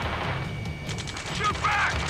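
Gunfire crackles in Ace Combat 7: Skies Unknown, a close burst of rapid shots and impacts over a low rumbling battle bed, with brief metallic pings toward the end.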